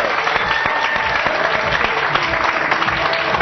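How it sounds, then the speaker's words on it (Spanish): Strong, steady audience applause fills the hall at a festival night performance, dense continuous clapping with no break, loud and close throughout. "Fuerte aplauso."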